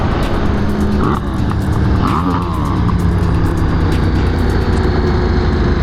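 A KTM 1390 Super Duke R motorcycle on a race track roars continuously at high revs, loud, close and powerful, with brief shifts in pitch as it accelerates.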